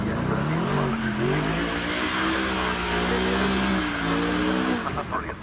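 A Mercedes-AMG CLK Black Series with its 6.3-litre V8 holds a steady, throaty engine drone at the Goodwood Festival of Speed, the pitch rising and falling gently before easing off near the end.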